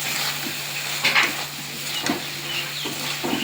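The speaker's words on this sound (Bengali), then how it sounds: "অলরেডি আমার মটর আলুটা ছেড়ে দিয়েছি বন্ধুরা, দিয়ে ভালো করে কষতে কষতে" Peas and potatoes sautéing in a pan over a constant close sizzle, with stirring scrapes and occasional utensil knocks against the pan at an uneven rhythm.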